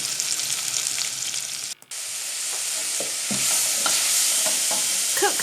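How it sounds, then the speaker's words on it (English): Sliced leeks frying in a tablespoon of olive oil in a heavy-based pan, a steady close sizzle with a short break, then a string of spoon scrapes and stirring knocks growing busier toward the end, no talking. "In a heavy based pan, add a tablespoon of olive oil and your leeks."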